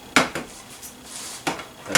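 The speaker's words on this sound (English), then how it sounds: "I'm going to move my pan around." A frying pan greased with butter is shifted around on a stovetop, giving a few scraping clanks and knocks of metal on the burner grate at uneven intervals, close and fairly loud.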